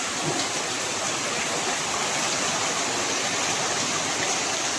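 Dense, steady roar of heavy monsoon rain pouring down, a continuous loud wash of water with no pauses and no voices.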